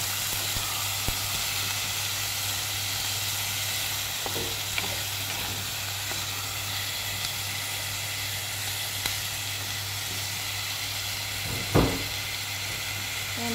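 Tomatoes fry in a pan with a steady, even sizzle and hiss that runs throughout at moderate loudness, broken only by a few faint clicks and one louder clatter near the end.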